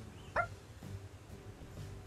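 A person imitates an obnoxious dog bark with one short, sharp yelp near the start, followed by quiet room noise.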